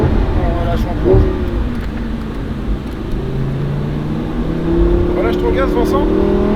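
A Lamborghini Huracan revs and accelerates on the Le Mans Maison Blanche circuit, its pitch climbing steadily as it builds speed, with a second engine tone rising later; loud and close.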